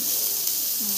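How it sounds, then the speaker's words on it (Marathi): Spices dropped into hot oil for tempering give a continuous bright sizzling hiss that stays steady and fairly loud throughout. "तर हे बघा आता मी तडका मारते त्याला"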